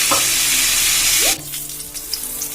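Bay leaf and dried red chilli dropped into hot oil for a tempering, giving a loud, steady crackling sizzle that drops sharply partway through and carries on quieter to the end.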